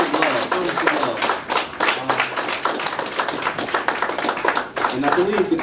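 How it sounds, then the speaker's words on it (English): An audience at an African community health event gives a dense, lively round of applause, loud continuous clapping from a crowd with scattered voices mixed in. "Can we get another round of applause?"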